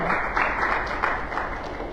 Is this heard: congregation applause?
yes